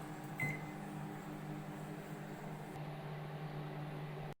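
A microwave-style oven hums steadily while baking a wheat flour cake, a constant close mechanical drone with a brief beep near the start and no talking.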